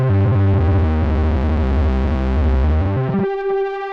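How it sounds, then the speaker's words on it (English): A buzzy, metallic tone from a Softube Model 72 synthesizer drones with a distorted, chorus-like shimmer, then thins into a brighter, steadier pitch near the end. "here's a nice metallic sound, reminiscent of a 1980s computer"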